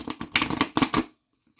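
Tarot cards are shuffled in a few quick riffling bursts, close and crisp, then the sound stops abruptly into silence.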